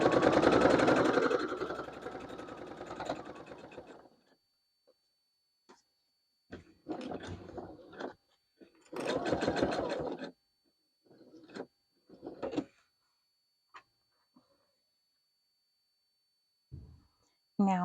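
A sewing machine stitches binding onto a quilted project bag in a sustained run at the start that trails off, followed by a person talking in short phrases with pauses.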